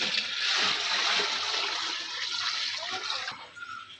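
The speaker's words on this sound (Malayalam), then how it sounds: "അരിച്ച് മാറ്റി വെച്ച ശർക്കരപ്പാനി പാത്രത്തിലേക്ക് ഒഴിച്ചു കൊടുക്കാം" Strained jaggery syrup pours steadily into a vessel for ada pradhaman, a continuous close liquid splashing that tapers off near the end.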